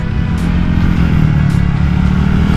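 Close revving from a 2017 Honda Vario 125 eSP scooter fitted with an AHM exhaust, a continuous engine drone broken by a couple of brief throttle blips, alone with no speech.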